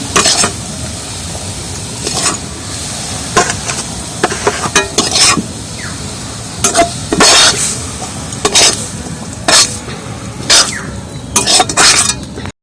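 Coconut filling being scraped off a pan onto a plate for dudh puli, giving repeated close scrapes and clinks of a utensil in an irregular rhythm over a steady low kitchen background.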